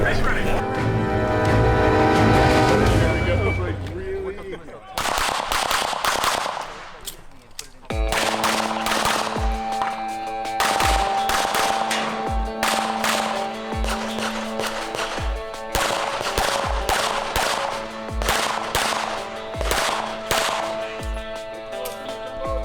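Rapid strings of gunshots during a stage of an IPSC practical shooting match with 12 targets, loud sharp cracks in quick bursts and pauses over several seconds, with outdoor ambience and some voices nearby.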